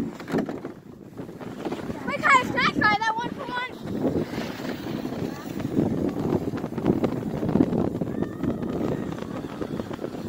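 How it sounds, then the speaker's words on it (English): Strong gusts buffet the microphone outdoors at a snowy sledding park in winter, a rough, surging roar rising and falling, with children and adults talking and shouting briefly over it. "Oh my god, it's so windy."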